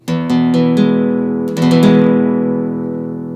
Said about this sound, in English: you're going to want this to ring out like this